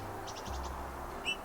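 A woodpecker calls a few times in a quick burst of short, high chirping notes, fairly faint over a steady background hiss in a snowy outdoor setting, followed by one brief sharper call.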